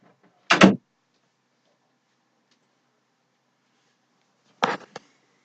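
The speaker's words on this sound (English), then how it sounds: "Door shut." A room door shuts with a short, solid thud, followed a few seconds later by a second knock-like bang and a small click as it latches, with silence between.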